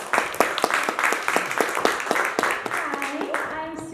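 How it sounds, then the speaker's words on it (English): Applause rises from an audience at a film screening and panel, a short round of fairly sparse, distinct claps that fades as a voice begins speaking. "Caitlin, let's give her another round of applause."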